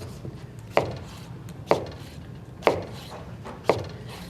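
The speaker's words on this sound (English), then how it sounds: "Cut them into manageable pieces." A knife chops squash into manageable pieces on a board, landing four evenly spaced, sharp, close strikes with no talking.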